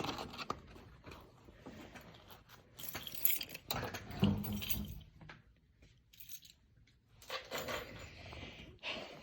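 A bunch of keys jangles and clinks as it is handed over in a classroom, a close, moderately loud metallic rattling that comes in scattered bursts with shuffling pauses between.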